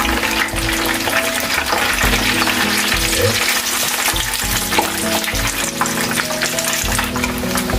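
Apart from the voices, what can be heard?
tofu and steamed potatoes frying in oil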